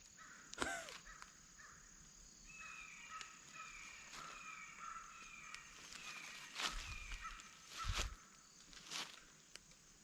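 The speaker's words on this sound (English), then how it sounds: "Them crows will stay out there." Crows caw outdoors during a squirrel hunt, a series of faint, distant repeated caws over quiet woodland ambience with crickets, along with a few nearby rustles and thumps like footsteps.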